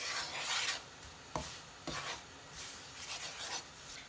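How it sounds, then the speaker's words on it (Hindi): Semolina being stirred and roasted in butter in a pan for sooji halwa, a soft continuous rasping scrape with a few sharper spoon strokes against the pan, heard close up with no talking. "थोड़ा हमने सोजी को भूनना है ताकि अच्छे से फ्लेवर आए हमारे सोजी के हलवे का"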